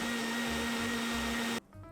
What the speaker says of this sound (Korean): 그리고 믹서기에 재료를 갈아줍니다.